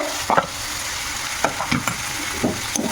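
Bihari-style chicken frying in a pan as ginger, garlic and chili are added and stirred: a steady sizzle under intermittent scraping, clattering strokes of the spoon, close and fairly loud, with no talking.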